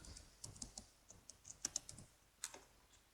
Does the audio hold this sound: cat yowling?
no